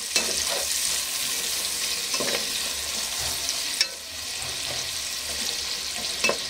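Onions sautéing fast over high heat in a pan for Schezwan chicken rice, a loud continuous sizzle and crackle with occasional stirring scrapes, no voices.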